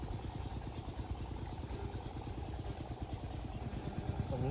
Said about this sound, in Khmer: សំលេងម៉ាស៊ីនគេបូមទឹកដាក់ដំណា ំតារ៉េន